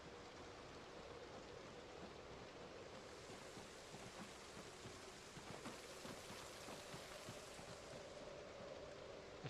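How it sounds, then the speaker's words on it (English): Light rain falls in the Project Zomboid video game, a steady, even hiss of drops spread across the whole stretch with no voices and no breaks. "I don't worry about this kind of rain."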